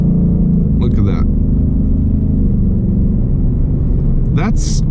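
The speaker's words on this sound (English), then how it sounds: "If I just give it a little throttle, it kicks down exactly where you want it to be, and then it hangs into that gear" A 2021 Ford Mustang Mach 1 with a 10-speed automatic kicking down under light throttle, a loud, steady low engine rumble from inside the car, with brief speech over it.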